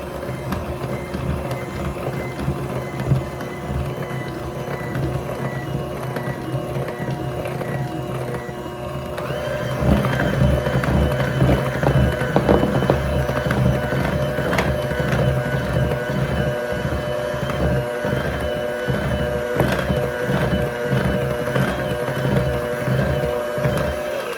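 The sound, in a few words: mixing batter for cranberry bliss bars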